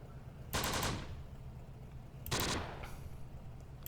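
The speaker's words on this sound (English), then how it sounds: "3-man machine gun team would work wonders right here." Machine gun fire in the video game Close Combat, two short rattling bursts about two seconds apart, loud and close over a low steady background.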